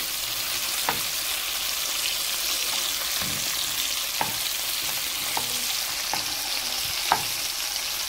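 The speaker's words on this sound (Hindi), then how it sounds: "देखें ये फ्राई हो गए एक साइड से अब हम इसको पलट देते हैं" Chicken tikka pieces frying steadily in a pan, a loud continuous sizzle with a few light knocks as the pieces are turned over, no voices.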